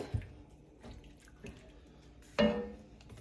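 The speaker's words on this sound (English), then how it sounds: "2 cups of water" Water from a kitchen tap splashes in short bursts, with a few clunks, then a louder gush near the end before fading.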